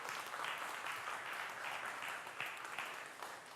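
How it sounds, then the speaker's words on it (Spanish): A church congregation applauds during a night vigil service, a dense, steady wash of many hands clapping that swells and holds without a break, heard from within the room. "Aplauda el nombre del Señor Jesús en esta noche."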